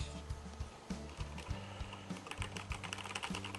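Steady typing on a SteelSeries Apex Pro RGB gaming keyboard, close and quiet, with quick clustered key clacks and firm bottoming-out taps, no talking.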